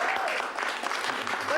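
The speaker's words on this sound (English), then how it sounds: "everybody claps." An audience clapping together, a brief dense burst of applause that holds steady and fairly close, with no voices standing out above it.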